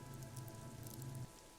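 Steady rain falls in the video game Disco Elysium, a soft continuous patter with a low hum underneath that drops slightly near the end, no talk.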